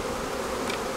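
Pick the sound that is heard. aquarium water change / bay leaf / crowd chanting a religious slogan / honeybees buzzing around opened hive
honeybees buzzing around opened hive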